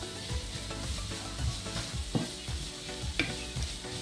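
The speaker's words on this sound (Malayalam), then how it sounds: "ഇത് നന്നായിട്ടൊന്ന് വഴറ്റിയെടുക്കാം." Onions sauté with salt in a pan for green gram thoran, with a continuous sizzle and repeated scraping strokes of a spoon stirring them, close and fairly loud throughout.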